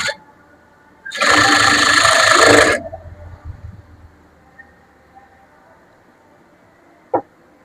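A sewing machine stitches a folded dart on a blouse, one loud burst of rapid mechanical whirring lasting about a second and a half, then quiet with a brief click near the end.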